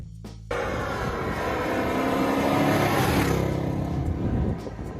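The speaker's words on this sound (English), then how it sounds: "Number 6, 1970, Ford Torino Cobra." A 1970 Ford Torino Cobra muscle car engine roars loudly and steadily up close after a brief quiet start, its heavy rumble swelling toward the middle before easing back near the end.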